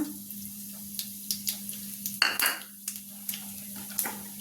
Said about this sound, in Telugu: ఇప్పుడు రెండు బిర్యానీ ఆకులు వేసుకుందాం అలాగే హోల్ గరం మసాలా వేసుకుందాం